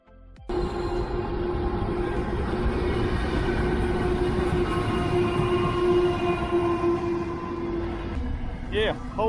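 A train rumbles past close by in one sustained, loud pass, with a steady low roar and a brief squealing wheel note near the end; no one speaks over it.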